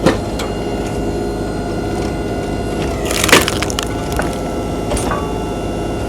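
A battery-powered log splitter with a two-stage wedge drives through a log at the crotch, giving steady mechanical whirring with creaks and a sharp cracking burst of splitting wood midway, then further snaps and creaks.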